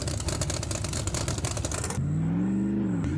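Engine revving of a loud car in the Farming Simulator 25 video game, a dense roaring rev for two seconds, then cutting to a lower steady whine that rises and falls, heard alone and close.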